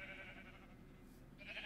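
Sheep bleating in Minecraft, a short bleat at the start and another near the end, moderately loud and alone with no talk.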